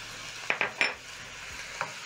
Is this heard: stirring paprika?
yes